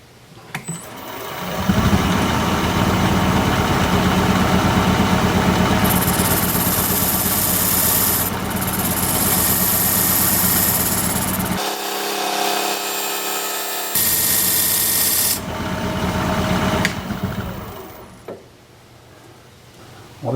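A wood lathe spins a pedestal blank with a steady motor hum and whine, starting up, running loudly and near for a long stretch with brief changes in tone, then spinning down near the end.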